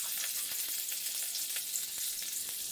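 Plenty of butter melts and sizzles in a hot pan set on low heat, a soft steady hiss with faint crackles and pops throughout, with no talk.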